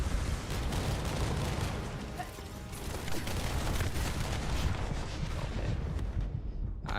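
A relentless barrage in The First Descendant, with continuous rumbling fire and explosions rolling together at a steady loud level for the whole stretch. The noise cuts off abruptly at the very end.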